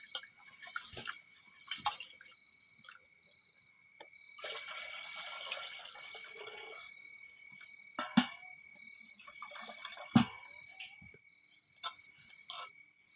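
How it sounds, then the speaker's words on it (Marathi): Water comes to a rolling boil in a pot over a wood-fired clay chulha, with steady bubbling and hissing broken by short spluttering bursts. Faint insect chirps sound in the background and nobody speaks. "आता उकळी आली पाण्याला चांगली उकळी आली चुलीवर"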